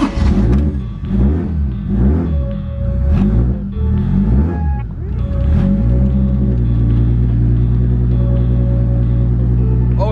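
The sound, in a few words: Nissan 240 hatch drift car engine running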